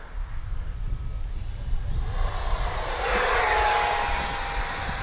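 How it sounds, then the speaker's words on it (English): An RC BAE Hawk 50mm electric ducted-fan jet flies past outdoors, its high whine rising in pitch and growing louder as it nears, then holding steady over a low rumble of wind. "Nice little jet."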